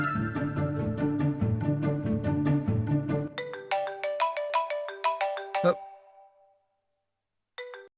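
Mobile phone ringtone for an incoming call: a melodic electronic tune of chiming tones plays for several seconds, then stops, and a single brief chime follows near the end.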